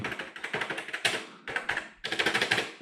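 Keys clacking on a C64 computer keyboard in a quick, uneven run of crisp taps, with brief pauses between bursts, close and clear with no voices.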